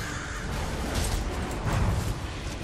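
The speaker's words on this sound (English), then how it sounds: "Oh, she's shooting the crows." Crows caw in Elder Scrolls Online, heard as faint, distant calls set against a steady wash of in-game ambient noise, with no one talking.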